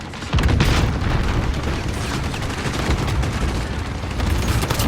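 Cluster strike explosions in a Modern Warfare co-op survival game, a heavy boom followed by a dense, rumbling wash of blasts and crackling debris that stays loud for several seconds.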